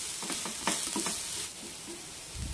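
Cauliflower and red gram stir-fry stirred in a pan, a short close sizzle with a few quick scraping strokes at the start, then a steady fainter hiss.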